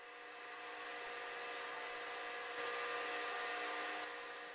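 A 3/16 four-flute end mill spins at 350 RPM on a milling machine, finishing the sides of a slot in metal for a miniature fly cutter. It gives a steady, continuous whir and hiss that stays close and even throughout.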